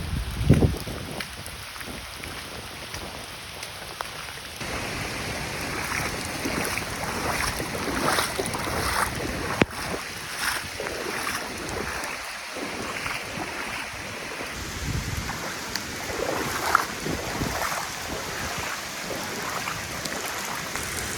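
Strong hurricane wind roars over a flooded creek, with churning water and gusty rumbling buffeting close to the microphone continuously throughout.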